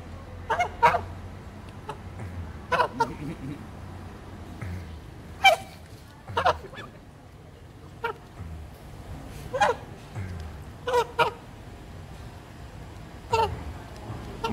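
A goose in Pattaya, Thailand, gives short, loud, nasal honks at close range, in irregular bursts separated by quieter pauses.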